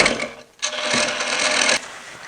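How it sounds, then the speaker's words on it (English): A small hand scraper works the recess of a turned oak bowl, giving a loud, coarse rasping stroke, a brief pause, then a longer continuous scrape. "For the remainder of the recess there, I'm going to use this little scraper."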